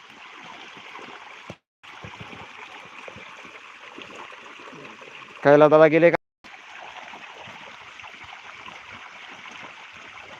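Soft, steady rush of water flowing into a farm field irrigation channel, with a short burst of nearby speech partway through.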